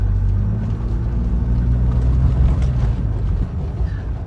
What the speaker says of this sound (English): let's drive through the yard here. It's not the smoothest yard.